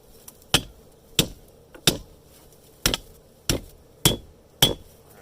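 A hot lawnmower blade hammered flat on an anvil for a knife, seven loud, ringing metal strikes at an even pace, each with a short decay.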